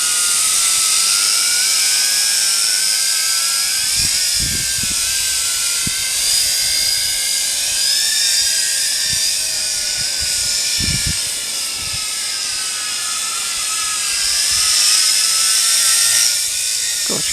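A Tarantula X6 drone flies nearby, its rotors producing a loud, steady high-pitched whine that rises and falls slightly over time, with intermittent low wind buffets.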